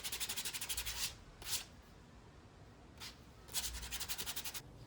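A mask is sanded by hand with 240 grit sandpaper in quick rhythmic back-and-forth strokes, soft and close, in short bursts separated by pauses.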